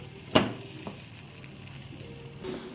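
Masala-stuffed gunda sizzle softly in a pan for a gunda sabji, a low steady frying hiss broken by one sharp utensil knock early and a few faint stirring sounds.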